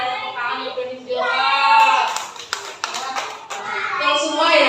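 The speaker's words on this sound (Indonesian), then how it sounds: "Tepuk tangan yang berdialog." Children in a classroom play a call-and-response clapping game about a market, with sung voices over a run of quick, close hand claps in rhythmic bursts.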